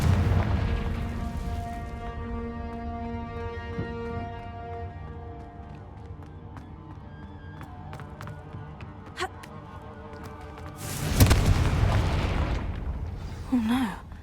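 A Confringo fire spell from the game Hogwarts Legacy detonates in a sudden loud explosive burst near the end, set against a quieter ambient musical background with scattered small effects.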